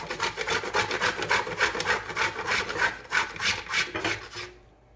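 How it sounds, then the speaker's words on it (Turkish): Dark chocolate rubbed against the finest side of a grater makes a close, rhythmic series of scratchy rasping strokes, about a dozen in quick succession, before stopping abruptly. "2 adet bitter çikolatayı rendeleyeceğim"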